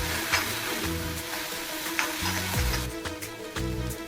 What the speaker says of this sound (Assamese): তাৰপিছত লৰাই অলপ সময় ভাজিব লাগিব